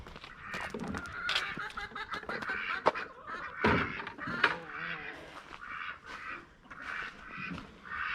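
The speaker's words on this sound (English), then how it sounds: "I know, ducks." Ducks on a farm quack steadily throughout, a dense overlapping chatter of several birds close by with occasional louder honks, and no talk over them.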